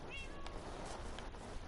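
A cat meows in a Minecraft game, one short, faint meow over a steady background hiss, heard alone.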